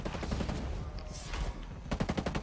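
Gunfire in the tactical shooter Ghost Recon Breakpoint: several bursts of rapid shots, moderately faint, with a clear volley at the start and another toward the end, and brief game sounds between.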